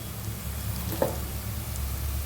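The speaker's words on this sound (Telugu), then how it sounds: "ఈ టైంలో మనం అల్లం వెల్లుల్లి పేస్ట్ వేసుకోవాలి" Ginger garlic paste sizzles in a frying pan of browned onions for a tamarind-style garelu curry, giving a steady close hiss with a single soft scrape of a spoon.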